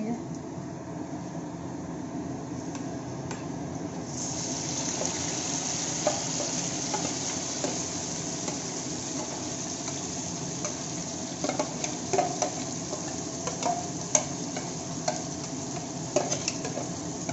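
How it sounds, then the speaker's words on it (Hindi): Marinated chicken sizzles in a pan of browned onions for a chicken biryani, a steady close frying hiss with scraping stir strokes over a low background hum. "अब इसमें हम अपना मैरिनेटेड चिकन ऐड करेंगे."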